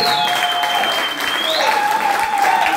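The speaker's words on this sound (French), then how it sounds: "Est-ce que quelqu'un peut acclamer très très fort?" A church congregation cheers and applauds loudly in a steady, dense wash of clapping and crowd noise, with a few high whistle-like tones on top.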